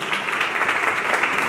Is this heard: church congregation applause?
yes